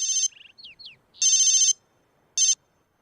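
A mobile phone ringtone plays in short, bright electronic bursts with a few chirping tones between them, clear and close, with no voices over it.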